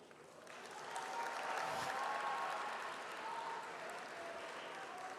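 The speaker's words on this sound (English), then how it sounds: "don't clap for me" An audience at a Harvard Model United Nations conference in India breaks into applause, a steady crowd clapping that swells quickly, holds and then tapers slightly, with a faint voice underneath.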